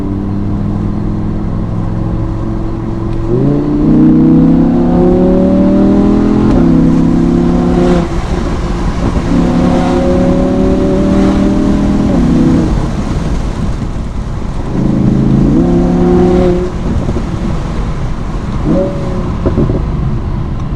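A 2017 Audi R8 Spyder engine revs loudly, recorded from inside the car with the windows down; repeated surges climb and fall in pitch over a constant engine roar, with no speech.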